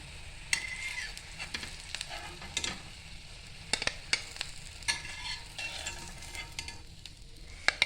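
Rava burgers fry in a pan, a soft continuous sizzle punctuated by spatula clinks and scrapes as they are turned and lifted, with no talking.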